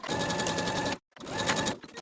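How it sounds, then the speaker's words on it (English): Sewing machine edge stitching close to an inner fold on shorts for a romper, two bursts of rapid rhythmic mechanical whirring with a short pause between, close and fairly quiet. "take this to your sewing machine and edge stitch close to that inner fold"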